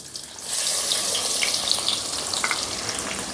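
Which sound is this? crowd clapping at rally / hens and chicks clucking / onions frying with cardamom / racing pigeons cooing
onions frying with cardamom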